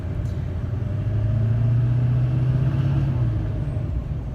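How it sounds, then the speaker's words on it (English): Turbocharged car on a test drive with its intake resonator removed, giving a steady low engine and road rumble that swells slightly midway, with a faint high whine riding above, heard from inside the cabin. "There's maybe a little bit more turbo noise"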